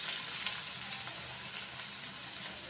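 Chopped onion and potato with chilli frying in a pan, a soft, even crackling sizzle heard close, with faint stirring.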